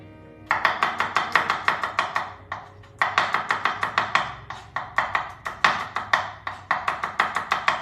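Rapid knife chops slicing garlic on a cutting board, steady rhythmic taps in bursts with brief pauses, close and crisp with no talking.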